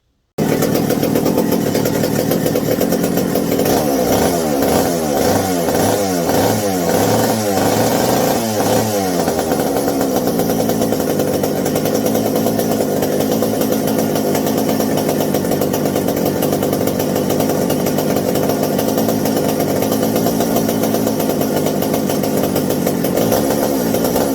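Old McCulloch 790 chainsaw engine firing up and running loud and close, a few seconds of choppy, pulsing revs giving way to a steady, buzzing run with the idle screws wide open.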